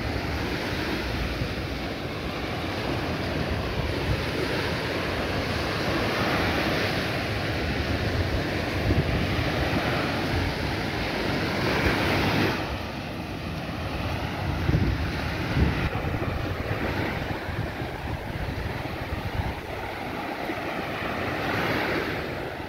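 Surf washing ashore at Aqua Beach, Rockley, on the south coast of Barbados, a continuous roar of breaking waves mixed with gusty wind buffeting the microphone, no voices.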